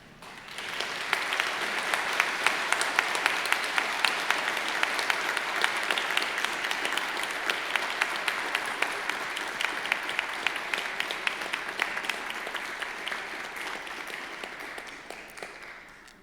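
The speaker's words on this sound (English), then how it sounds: "express your gratitude by a round of applause to them" A graduation ceremony audience stands and applauds for a long stretch, with steady massed clapping and distinct individual claps that rise quickly, hold, and taper off near the end.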